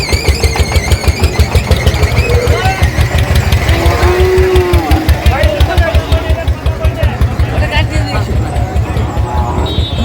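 A Sahiwal bull moos low and drawn-out amid crowd chatter at a cattle market, with a rapid mechanical thumping running underneath throughout.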